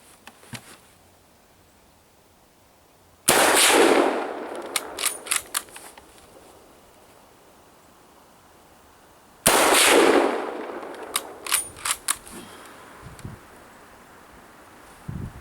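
Two loud, sharp rifle reports from a Mosin Nagant M91/30 firing 150 grain soft point rounds at a tannerite target, each followed by rattling echoes and clatter outdoors, spaced several seconds apart.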